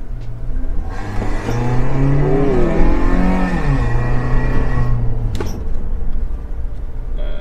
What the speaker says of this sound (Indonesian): Untuk suara sendiri seperti yang terdengar nggak terlalu berisik dengung di kabin karena masih menggunakan muffler standar.